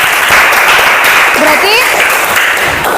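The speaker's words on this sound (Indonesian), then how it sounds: "Beri tepuk tangan buat Sylvia." Classroom students applaud together in a steady wash of clapping that fills the whole moment, loud and close, with faint voices mixed in beneath.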